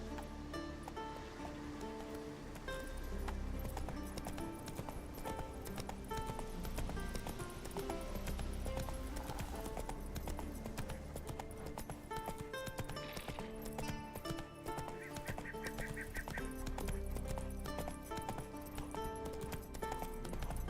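A horse gallops in the video game Witcher 3, its steady clip-clop hoofbeats running throughout under a dense game soundscape of music and ambience.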